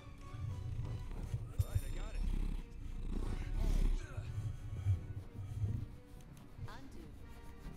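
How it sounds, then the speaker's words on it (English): A cat purrs close to the microphone in soft rhythmic low rumbles, with faint voices and rustling around it. "High def cat noises, damn right"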